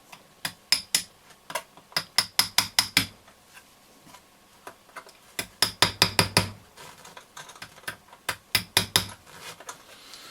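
Sharp metallic taps from an old precision screwdriver pressing a part down during reassembly of a Roberts R707 radio, coming in quick bursts of several clicks separated by short pauses, close and distinct.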